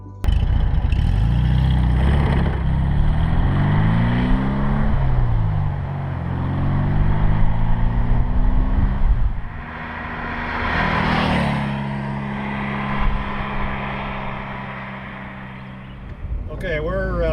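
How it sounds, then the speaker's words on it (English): A restored blue 1964 Porsche 356C drives along a road, its engine revving up through gear changes with rising and falling pitch, then settling into a steadier cruise drone, close and loud inside the car. "we're driving down the road in the 356"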